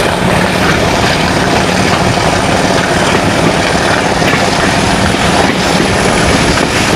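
A Pakistan Railways diesel locomotive engine, one built at Risalpur, runs on the Sialkot to Lahore line, a loud, constant, dense rumbling roar that holds steady for seven seconds, with no talking.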